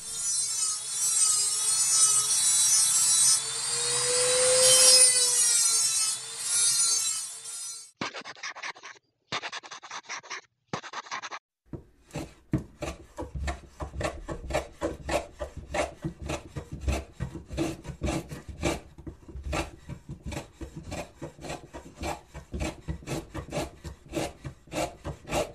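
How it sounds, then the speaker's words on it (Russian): A handheld rotary tool cutting into a steel saw blade disc: a steady high whine at first, then brief bursts and pauses, followed by a long run of rapid, rhythmic rasping grinding strokes, close and moderately loud, with no talk. "берем бормашинку и пробуем резать диск"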